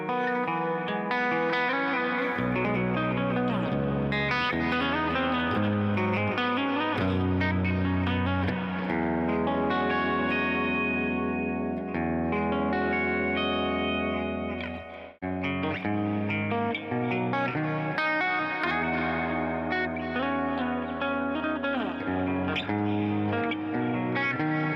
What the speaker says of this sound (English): I was playing around with my effects and I found out a new way to do reverb.